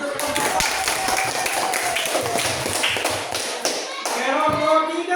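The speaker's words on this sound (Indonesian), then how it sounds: "Tepuk tangan untuk" A classroom claps for a discussion group, many hands patting in a steady, fairly quick patter, with children's voices mixed in.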